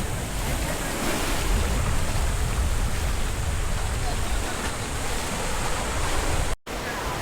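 Sea waves at high tide rolling in as a loud, continuous roar of surf mixed with wind buffeting the microphone, briefly cutting out near the end.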